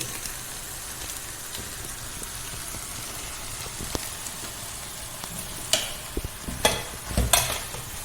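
Chicken sautés in a pan with pepper powder, Kashmiri chilli powder and chicken masala powder for a biryani. A close, steady sizzle runs throughout, with spoon stirring and scraping strokes growing busier near the end.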